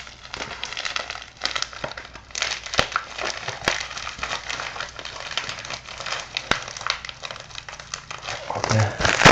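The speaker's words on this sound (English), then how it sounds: "Open this package up." Plastic mail packaging crinkles and crackles as someone tears it open by hand without scissors, close and busy, with sharp snaps and rustles coming in uneven bursts throughout.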